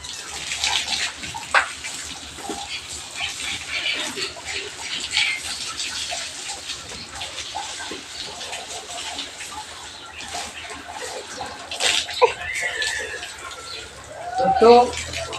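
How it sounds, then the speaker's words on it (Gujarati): A pressurised jet of water sprays onto cattle to cool them in summer heat. It makes a continuous rushing, splashing hiss that swells near the end, with voices talking at times. "એટલે સીધું પાણીનું પ્રેશર કરીએ છીએ."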